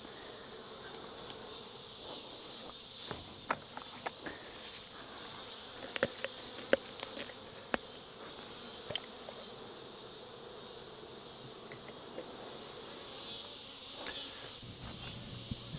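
Honey bees buzz around an open hive during a varroa mite check, a dense, continuous hum up close, broken by scattered faint clicks and taps of handling.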